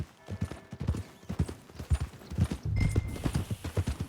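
Steady clip-clop of horse hooves from a Red Dead Redemption 2 horse walking toward the stables, the close, rhythmic hoofbeats quickening slightly near the end.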